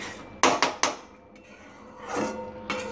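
Homemade tomato ketchup with coriander leaves stirred in a pan, a quick run of three sharp spoon scrapes and clinks, a quiet pause, then two more strokes against the metal, close and clear.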